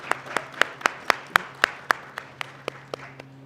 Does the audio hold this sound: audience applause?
yes